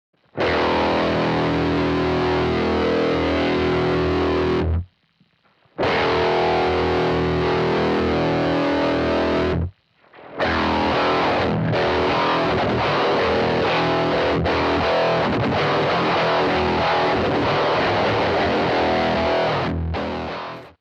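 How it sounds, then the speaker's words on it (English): Harsh, metallic guitar tones through a Line 6 MM4 ring modulator, with a clangy, inharmonic quality, played loudly in three bursts separated by brief silences, the last passage long and dense. "So that really weird sound was using the ring modulator patch."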